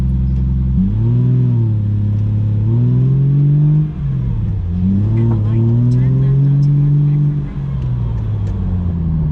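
A Porsche 914 sports car engine revs repeatedly up and down nearby, its loud exhaust note rising and falling in strong waves.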